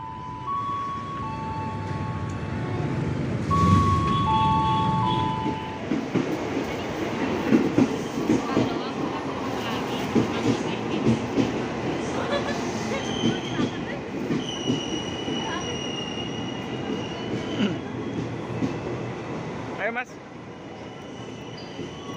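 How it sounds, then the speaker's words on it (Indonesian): A KRL commuter train, a 12-car set departing Manggarai station, rumbles along the rails with steady clatter and occasional wheel squeal, a voice briefly audible over the noise, heard from inside the carriage. "Naik kereta lagi ya."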